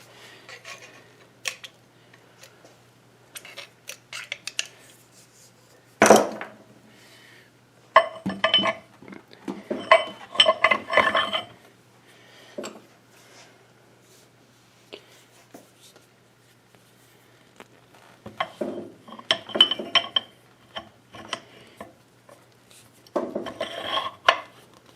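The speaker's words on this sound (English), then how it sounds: "we can get our tumbler gear back in place" Metal tumbler gear being fitted back into the gearbox of a 13-inch Southbend lathe during refurbishment, heard as sparse close clinks, scrapes and taps in short bursts with quiet gaps between.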